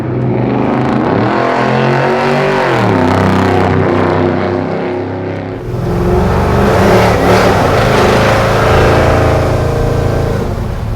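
A V8 in a 1959 Chevrolet Apache restomod pickup truck rated at 500 horsepower accelerates hard. The engine note drops after a shift and then climbs again, a loud, close, continuous roar with no talking.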